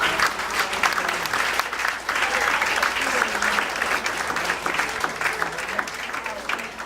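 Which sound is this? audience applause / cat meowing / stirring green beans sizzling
audience applause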